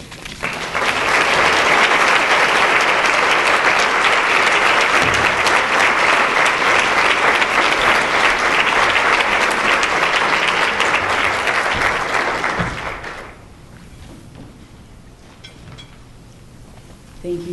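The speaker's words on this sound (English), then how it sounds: "one more round of applause for Sandra Grace" Sustained, loud audience applause for speaker Sandra Grace fills a hall for around twelve seconds before cutting off abruptly, leaving a quiet room tone with a small stir at the end.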